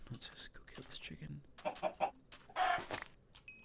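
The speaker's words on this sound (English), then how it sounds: "Ooh, chicken. Let's just go kill this chicken." A Minecraft chicken clucks in short, repeated bursts mixed with game sound effects, and a player talks briefly over it.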